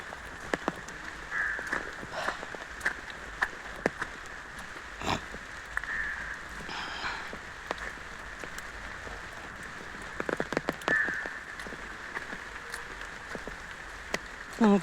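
Rain patters steadily on surfaces, with scattered sharp drips and taps, and no talk.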